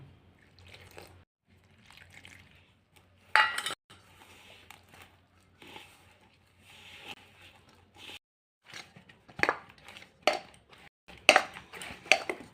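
Semolina and flour dough being mixed by hand with water in a bowl, soft wet squelches and slaps with intermittent sharper knocks against the bowl, gaps of near silence between bursts.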